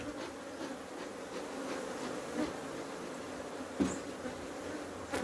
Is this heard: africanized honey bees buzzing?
yes